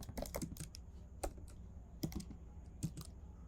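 Quiet bursts of computer-keyboard typing while entering Flutter code: quick clusters of key clicks separated by short pauses, close and soft, with no speech.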